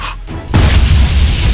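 A deep explosion boom in a Minecraft Lord of the Rings mod battle, one sudden loud low blast that keeps rumbling for over a second after a brief quieter moment.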